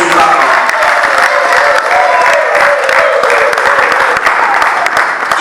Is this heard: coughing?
no